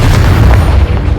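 A Confringo explosion spell goes off in the video game Hogwarts Legacy, a loud, dense, rumbling boom that fills the whole moment and rolls on without a break.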